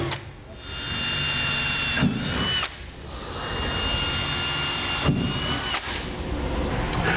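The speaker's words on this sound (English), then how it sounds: "we'll slide the rail out of the way, and we'll drill them out the rest of the way" Power drill boring holes for a Curt custom fifth wheel rail mount on a 2008 Ford F-250, a steady loud whine running in three long bursts separated by brief pauses, with no talk.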